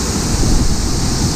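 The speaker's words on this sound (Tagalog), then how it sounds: "Grabe nga agos sa tubig dito." Strong rushing water at a waterfall, a loud, dense, constant roar close by with wind buffeting the microphone.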